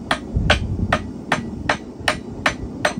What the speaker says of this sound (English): You're squeezing that steel because I'm going to peen it now.